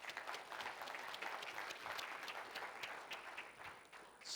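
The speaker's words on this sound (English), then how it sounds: "we'll start with a round of applause for the People Matters team" Conference audience applauding the People Matters team at a people analytics event. The clapping is steady and continuous through the whole stretch, fairly quiet and heard from some distance.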